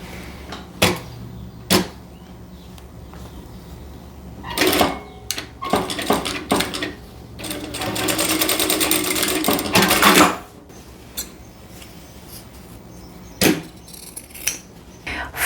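A sewing machine stitches across fabric corners in one burst of about three seconds in the middle, surrounded by scattered clicks, taps and handling knocks from lifting and repositioning the fabric.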